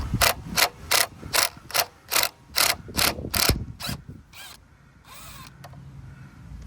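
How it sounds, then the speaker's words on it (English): A ratchet or driver loosens a T30 Torx screw on a BMW S1000RR motorcycle, making about ten loud, evenly spaced clicks that trail off into softer handling noises. "take a T30 torque screw, loosen that up"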